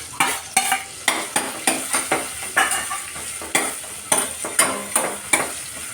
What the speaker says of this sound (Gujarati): મેં હજી વધારે થોડોક અજમાનો વઘાર કરી લીધો છે